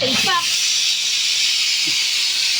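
Steady loud hiss of steam escaping from a pressure cooker, continuous throughout, with a brief voice at the start.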